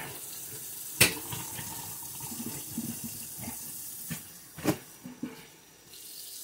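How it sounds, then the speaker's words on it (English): Tap water runs into a sink being filled to rinse a tie-dye T-shirt, a close steady stream with sharp splashes and clunks as the tap is handled. "I'm going to fill the sink up again and rinse it again."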